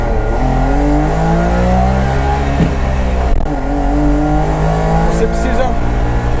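A two-stroke engine in a Puma GT car revs steadily up through the gears, a loud, buzzing drone that climbs in pitch, heard close up.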